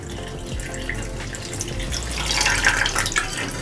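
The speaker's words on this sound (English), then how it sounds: "The water has just gone through so quickly" Hot water poured through the infuser basket of a glass teapot, a continuous splashing trickle close by that grows a little fuller and brighter toward the end, with no voices.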